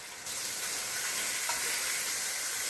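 Pork chops browning in a pan for Italian pork pizzaiola give a steady, close, loud sizzle and fry that holds without break, with no voices over it.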